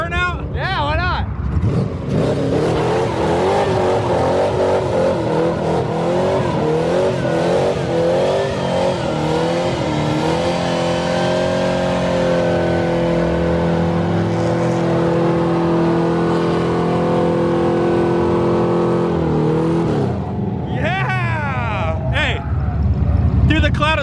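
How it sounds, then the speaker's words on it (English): Drift car doing a burnout, its engine revving hard and holding at high pitch for many seconds with wavering tone, then dropping off, loud and close over crowd chatter. "Are you gonna rip a little burnout?"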